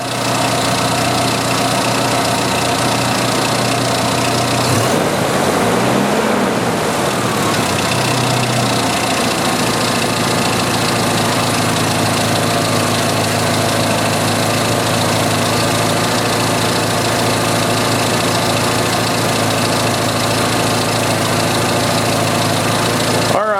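A 1986 Jeep Cherokee engine with a bad alternator revs briefly to just past 2,000 rpm, then settles into a loud, steady idle recorded up close.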